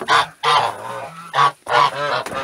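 Loud, close honking of agitated geese, several harsh nasal calls in quick succession with brief pauses between them.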